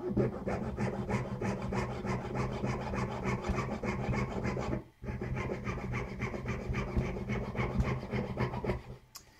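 A hand file rasps back and forth across a wooden piece being shaped into interlocking bands, a close, continuous rhythmic scraping with a brief pause midway.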